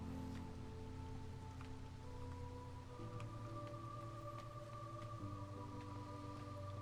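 Storm rain in the video game Against the Storm: a steady, faint patter of raindrops over a low droning game soundscape with sustained tonal layers, no talk.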